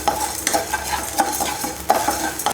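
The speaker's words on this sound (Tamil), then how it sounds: "உப்பு போட்டு கொஞ்சம் கல்லுப்பு போட்டு வறுத்துக்கலாம்" Rock salt roasts in a pan for idli podi while a spoon stirs it, making close, rhythmic scraping strokes about twice a second over a light dry sizzle.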